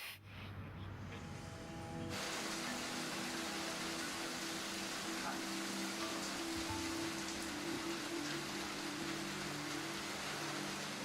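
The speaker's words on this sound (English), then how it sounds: "Day 2 ends with a downpour" Steady, dense rain pouring down hard during the Rainforest Challenge off-road event, a continuous broadband hiss that swells after a quieter opening and holds loud throughout.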